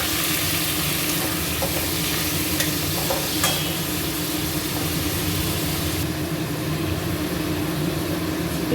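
Chicken, about 250 grams, frying in three tablespoons of hot white oil in a wok, giving a steady, close, fairly loud sizzle with faint stirring scrapes partway through and no voices.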